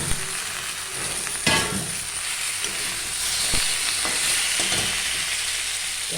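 Fish dropped into a hot pan of spice paste sizzles with a steady loud hiss, broken by a few sharp clicks and knocks of stirring, and no talk.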